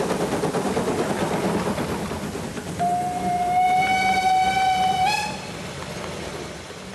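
Narrow-gauge steam locomotive 99-6102 on the Selketalbahn in the Harz, heard with rumbling running noise and a long, clear whistle blast that rises slightly at its end before the sound drops back to a steadier rumble.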